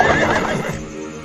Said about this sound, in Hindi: आज घोड़ा गाड़ी की सवारी करते हैं